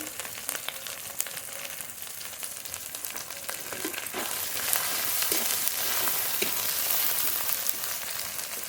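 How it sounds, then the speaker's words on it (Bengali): Ground cumin, coriander and dried chili powder fry with chopped tomato, salt and turmeric in a pan, a steady close sizzle broken by scraping stir strokes. The hiss grows louder in the second half. "মশলা খুব ভালো করে কষিয়ে নেবো মশলা খুব ভালোভাবে কষিয়ে নিয়েছি"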